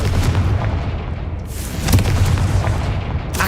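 Confringo blasting curse striking in Hogwarts Legacy, a dense rumbling explosion with a sharper burst near the middle and another crack at the end, loud and close.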